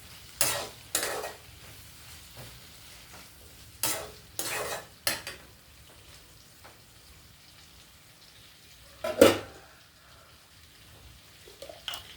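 Tomatoes cooking in a pan for a Telugu curry with fenugreek leaves and potato, heard as soft intermittent sizzling and stirring scrapes with a few louder bursts against a quiet background.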